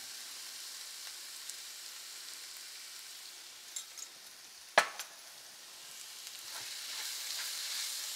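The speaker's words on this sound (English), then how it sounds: "Saute it for maybe another minute or so." Onion sauteing in oil in a pan for beef cutlets gives a soft, steady sizzle that runs the whole time, with a few brief clatters from stirring and one sharp scrape or knock near the middle.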